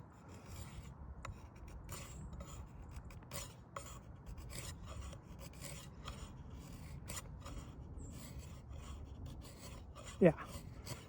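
A big knife blade carves curls freehand into wood, giving a steady, close rasping scrape that runs continuously, with one brief sharper scrape near the end.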